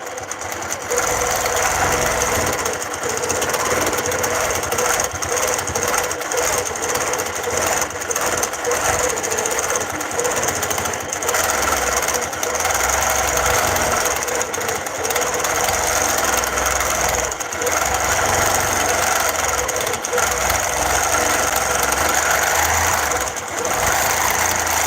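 A longarm quilting machine stitches initials into a quilt corner, a loud, steady, continuous mechanical whir with rapid needle chatter that runs without pause.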